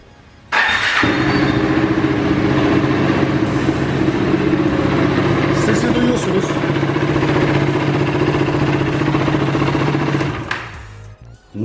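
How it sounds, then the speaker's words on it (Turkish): A KTM Duke 390 motorcycle engine fires up and settles into a steady, loud idle, a throaty rumble running until it cuts off near the end. "Şimdi motorumuzu çalıştıralım. Bir sesini beraber dinleyelim."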